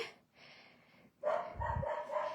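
A neighbour's dog barks next door, a couple of muffled yelping barks, fairly faint and brief, heard through walls in a quiet indoor room.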